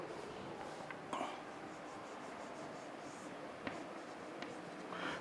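Pen or marker scratching steadily as a field controlled DC motor circuit diagram is drawn out, with soft continuous strokes, a few sharper taps and rustles, close and quiet, no talking.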